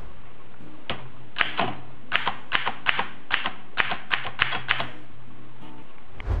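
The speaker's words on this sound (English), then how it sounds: "In the 1980s, people typically used typewriters to create documents." Typewriter keys strike in a sparse, uneven series of about a dozen crisp, sharp clacks, fairly close and alone, with a soft mechanical thump at the very end.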